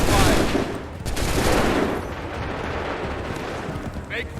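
A volley of gunfire in a video game battle crashes out in a dense ragged burst at the start, then rolls into continuing scattered shots and battlefield din with voices underneath.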